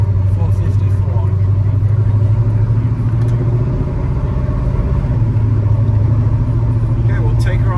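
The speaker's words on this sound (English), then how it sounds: "We go for a drive in my 1972 Camino 454." 1972 Chevrolet El Camino with a 454 big-block V8 on the road, a loud steady low engine rumble from inside the cab that rises and falls slightly with throttle, with a voice talking over it.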